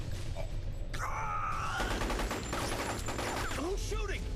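Gunfire in the video game Metal Gear Solid Portable Ops: a loud continuous volley of shots mixed with dense game effects and score, with voices groaning and shouting throughout.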